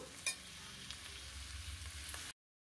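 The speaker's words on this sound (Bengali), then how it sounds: "তো আমার যতটা প্রয়োজন ততটাই এবার ভেজে নিচ্ছি।" Food frying in a pan ahead of mixing with pasta, a soft continuous sizzle with a faint stir tap at the start, quiet and steady, cutting off abruptly after about two seconds.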